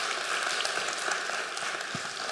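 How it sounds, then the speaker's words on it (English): Conference audience applauding to welcome a software engineer's talk on SQLite, a steady broadband wash of many hands clapping at moderate level throughout, with no talk over it. "Let's give him a round of applause"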